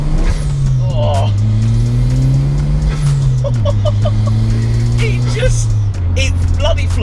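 A 1994 Toyota Celica GT-Four ST205 turbo rally car accelerating from inside the cabin, its engine droning and rising through the revs with a gear change midway, loud and steady, with talking over it.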